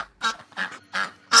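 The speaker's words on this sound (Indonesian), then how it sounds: "Ternyata suara itu berasal dari seekor itik yang sedang dimangsa buaya" A duck quacking in four quick, nasal bursts with short pauses between, close and loud with nothing else around.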